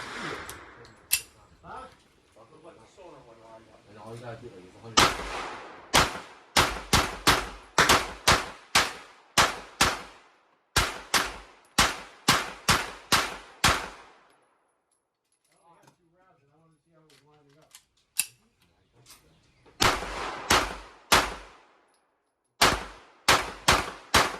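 A Smith & Wesson M&P 2.0 Metal Competitor pistol fitted with a Trijicon RMR red dot is fired in rapid mag dumps at a range, with loud bursts of sharp shots separated by quiet pauses.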